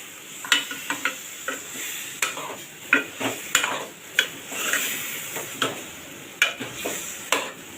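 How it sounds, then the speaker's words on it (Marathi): Baby shark fish sautéed in hot oil with tempering, a continuous close sizzle punctuated by a dozen sharp scrapes and clinks of a spatula stirring against the pan. "मच्छी आपण चांगली परतून घेणार आहोत तेलावर"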